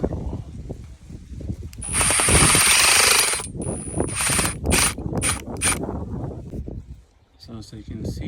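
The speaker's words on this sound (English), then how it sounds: "So now I'm gonna drill in the bit," A power drill drives a screw into a wall while mounting a bracket for PVC air compressor piping, giving a loud whirring and ratcheting burst followed by shorter pulses, with someone talking throughout.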